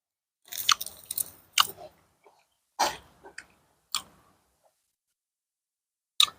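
Someone chews a mouthful of raw beef larb mixed with blood, close crunchy bites and wet mastication in short bursts separated by silent pauses.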